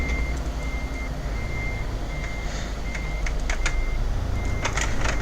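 Reversing beeps from a truck in Euro Truck Simulator multiplayer, a steady repeating electronic tone over constant engine rumble, with a few sharper clicks near the end.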